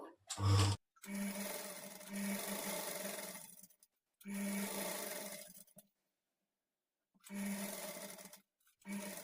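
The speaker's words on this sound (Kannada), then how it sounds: "ಈ ಪಾಲು ಎಷ್ಟು ಲೆಂತ್ ಇರುತ್ತೋ ಅಲ್ಲಿವರೆಗೂ ನಾವು ಇದೇ ತರ ಸ್ಟಿಚ್ ಮಾಡ್ಕೊಳ್ತಾ ಹೋಗ್ಬೇಕು" A sewing machine stitching a fall onto the edge of a saree, running in several steady whirring bursts of a few seconds each with silent pauses in between, heard close and clear.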